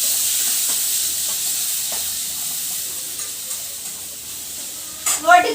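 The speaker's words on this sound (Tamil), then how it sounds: "குட்டி குட்டியாக நறுக்கின வெங்காயத்தை இப்போ ஒரு 10 நிமிஷம் வந்து இது கோல்டு கலரில் வெங்காயம் வர வரைக்கும் நம்ம வதக்கி எடுத்துக்கணும்." Finely chopped onions sauté for chicken kothu kari, giving a steady close sizzle with soft stirring scrapes and a sharper clatter of utensil against pan near the end.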